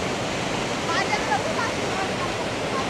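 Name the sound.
flowing water of Nikas stream, Surkhet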